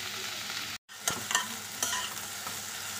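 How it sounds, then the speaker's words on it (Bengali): Okra and onion fry in a pan with a steady sizzle, broken by a brief silence and then a few sharp stirring scrapes. "এখন আমি এই ঢ্যাঁড়সের মধ্যে দিয়ে দিচ্ছি পেঁয়াজ, দিয়ে ভালো করে ভেজে নেব।"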